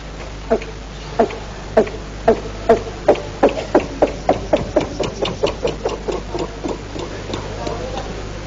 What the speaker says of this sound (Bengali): সেই ইঞ্জিনের চালক ওটাকে স্টার্ট দিচ্ছিল। শুনুন সেই ইঞ্জিনের শব্দটি।